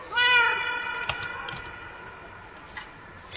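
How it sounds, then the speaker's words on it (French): A cat in Minecraft lets out one long, drawn-out meow that opens loud and clear and slowly fades. A few faint clicks and game noises follow, with no talking. "Le bruit du chat était flippant."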